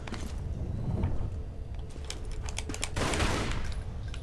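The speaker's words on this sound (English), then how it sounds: "Lara, it's nice that you like to shoot your guns" Lara Croft fires her guns in Tomb Raider: Anniversary, with clustered bursts of rapid gunfire crackling over a low rumbling game background, the shots coming in dense volleys around the middle and end.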